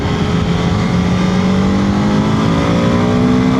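A BMW F 450 GS Trophy adventure motorcycle pulls away on a road, its engine loud and close, revving steadily upward in pitch with continuous wind and road noise.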